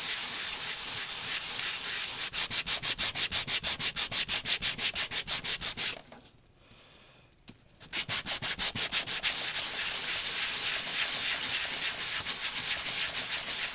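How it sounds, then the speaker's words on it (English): Sandpaper rubbed by hand over stamped, embossed chipboard, a fast rhythmic scratching of even back-and-forth strokes, close and steady, with one brief pause midway before the strokes resume. "You're going to want to sand until you see your embossed image start to come through."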